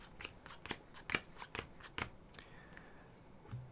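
Card decks for the Star Wars Clone Wars board game are shuffled with a run of crisp, evenly spaced snaps and riffles, close and quiet, ending with a softer slide of cards.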